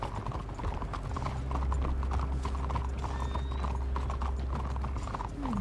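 Horse hooves clip-clop steadily on a road in Red Dead Redemption 2, a continuous rhythmic trot close by over a low rumbling ambience, with faint mechanical rattling and no talking.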